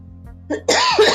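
A single sharp cough bursts out close up, preceded by a brief intake of breath.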